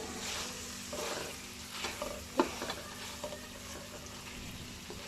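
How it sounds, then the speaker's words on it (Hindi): Fried carrot, capsicum and cabbage tossed into a pan with chicken for chow mein, a steady sizzle with scattered spatula scrapes and a sharp clank of utensils near the middle, no speech. "अब हम इसमें जो वेजिटेबल्स हमने फ्राई की हुई थी हम वो डालेंगे।"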